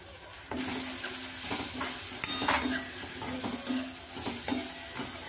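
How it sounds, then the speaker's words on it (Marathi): Spices and chilli powder with salt and turmeric stirred into hot oil with softened onion and tomato, giving a steady close sizzle broken by scraping and clinking of a spoon against the pan, with no talk. "ते सुद्धा व्यवस्थित असं फोडणीमध्ये परतून घ्यायचं आहे आपण"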